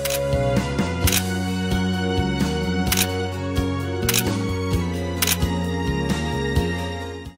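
Camera shutter snapping photos in the PS2 game Paparazzi: a run of sharp, separate clicks at uneven intervals, heard clearly over steady game music.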